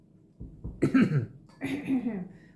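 A person coughs a few times after tasting olive oil in Portugal, harsh throaty bursts close by, with some throat clearing between them.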